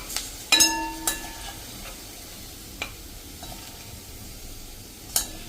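Spices for a brinjal sabzi masala sauté in a pan with a faint sizzle beneath, as a utensil clinks and scrapes against the metal several times at irregular intervals.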